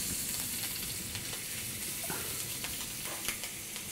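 A Saint-Jacques scallop cooks gently in a pan with a small knob of butter. It gives off a steady, close sizzle with soft crackles and small pops scattered throughout, and no voices.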